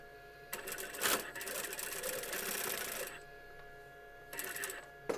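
A sewing machine stitching a patchwork strip for an egg-shaped fabric project, running in a steady fast whirring stretch of a few seconds, pausing, then starting up again briefly.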